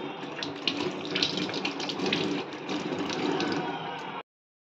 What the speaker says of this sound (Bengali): ধুয়ে ফেলি জামরুলটাকে।